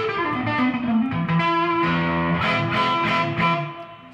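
Gibson Les Paul Tribute DC electric guitar from 2019 with custom Mark Brown pickups, played on the neck pickup through overdrive and reverb: sustained, slightly distorted notes and bends ringing into a reverb tail, played alone.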